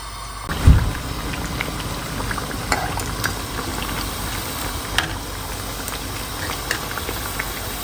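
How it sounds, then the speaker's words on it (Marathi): Dough deep-fries in hot oil until golden brown, making a steady bubbling crackle that fizzes continuously after a brief bump near the start. "मस्त गोल्डन ब्राऊन होईपर्यंत आपल्याला तळून घ्यायचे आहे"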